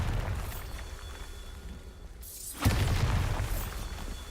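Bombarda spell blast in Hogwarts Legacy, a single sudden booming explosion after a brief lull, followed by a rumbling, crackling decay over game ambience.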